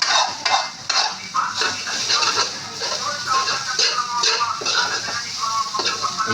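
A spatula stirs sinangag fried rice in a pan, giving repeated close scraping and clinking strokes over a faint sizzle.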